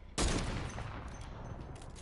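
A single sharp gunshot cracks out close and loud in Fortnite, its burst tailing off into a decaying reverberant wash with no talk over it.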